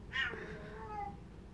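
A house cat lets out one short, falling meow in the distance, faint over a quiet background hum, with nobody speaking.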